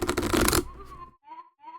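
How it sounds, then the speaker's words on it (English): Close-up riffle shuffle of a deck of playing cards, a brief dense burst of rapid flicking that stops abruptly, followed by short vocal sounds. "I'm going to shuffle these a couple of times."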